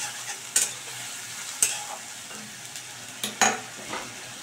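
Ginger, garlic and green chilli sizzling steadily in a hot pan while a utensil stirs them, with a few sharp knocks and scrapes against the pan, close and clear, no voices.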